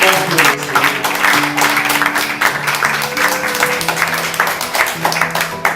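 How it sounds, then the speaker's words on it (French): A church audience applauds, with rapid claps filling the space over a sustained musical tone underneath, loud and continuous throughout. "Est-ce que nous pouvons applaudir très fort?"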